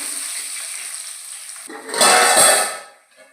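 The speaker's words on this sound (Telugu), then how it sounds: "ఆయిల్ కొంచెం చిటపెట్టలాడాక" Seasoning seeds in hot oil crackle and sizzle steadily, then flare into a louder burst of spattering before quickly dying down.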